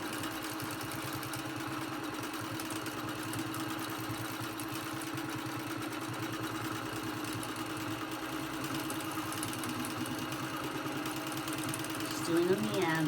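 Sewing machine stitching a meander pattern across a quilt backed with fusible grid interfacing, a continuous fast mechanical whir at steady speed, close and constant, with a brief scrape near the end.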